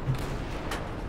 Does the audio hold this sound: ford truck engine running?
no